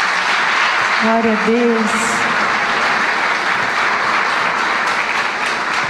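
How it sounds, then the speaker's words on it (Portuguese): A church congregation applauding, sustained clapping that fills the room while a voice speaks briefly over it near the start. "Vamos aplaudir?"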